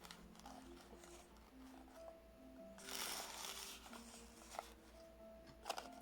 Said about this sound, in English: And shuffle it, and shuffle it like this.